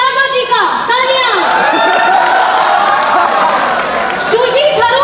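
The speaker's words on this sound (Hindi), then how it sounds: "तालियां बजती रहनी चाहिए।" A student audience at a skit applauds and cheers with whoops and excited shouting voices, loud and continuous throughout.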